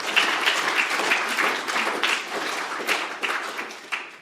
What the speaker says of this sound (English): you've got the first round of applause today